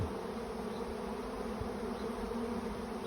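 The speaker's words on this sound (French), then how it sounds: "Donc moi, je suis au milieu des abeilles." A dense, continuous buzzing of many honeybees swarming close by, steady and droning throughout with no speech.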